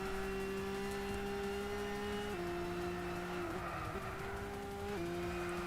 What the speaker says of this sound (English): This car has a horrible whine